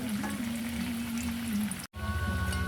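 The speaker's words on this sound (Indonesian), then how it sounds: "Dan ini digoreng kembali hingga garing ya." A simple two-ingredient bread snack deep-frying in hot oil until crisp, giving a continuous close crackling sizzle with a brief break near the end.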